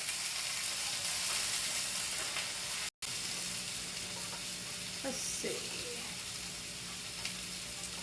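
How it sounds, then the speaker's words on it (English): Fried potatoes sizzle steadily in a pan on a home kitchen stove while a spoon stirs and scrapes through them, a constant close hiss with a brief break and a short spoken remark. "Let me stir my fried potatoes real quick."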